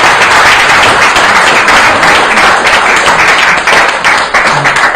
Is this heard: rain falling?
no